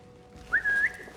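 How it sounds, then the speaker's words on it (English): A short rising-then-level whistle, a single clear note lasting under half a second, heard alone in Assassin's Creed Mirage. "Why would I whistle, you dummy?"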